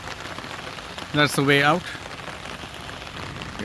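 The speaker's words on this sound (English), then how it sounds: "It's kind of fun walking in the rain" Steady rain falling outdoors while walking, a dense continuous patter that runs throughout at an even level, with a brief spoken phrase rising over it midway.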